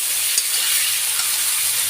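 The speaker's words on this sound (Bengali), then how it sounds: "মশলাগুলো একদম ভাজা ভাজা হয়ে গেছে" Dry spices fry with sweet potatoes in a pan for a rohu fish curry, a loud, even hiss of sizzling oil with a couple of faint stirring ticks.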